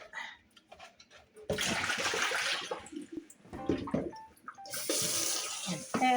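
Tap water runs as collard greens are rinsed in a two-piece bowl, with a steady rushing splash that starts abruptly, briefly eases off, then surges loudly again nearby.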